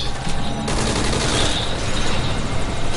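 Enemy gunfire in a Soviet-themed video game, a rapid barrage of automatic shots rattling in dense bursts, loud and continuous for the whole stretch with no voices.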